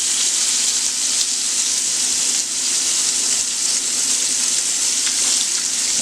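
Beef liver sizzles and fries steadily in a pan, a loud, dense, continuous hiss heard close up with no talking.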